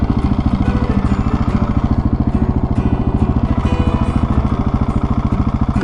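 A Supermoto 701 motorcycle engine in first gear, a loud close single-cylinder thump pulsing in a fast, even rhythm, steady throughout with slight rises in revs and no voices.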